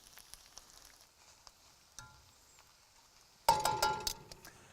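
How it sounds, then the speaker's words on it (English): Shallots and garlic hit hot olive oil in a cast iron pan, starting with quiet scattered crackles before bursting into a loud, dense sizzle that continues to the end. "Get that guy in there, listen to it sizzle."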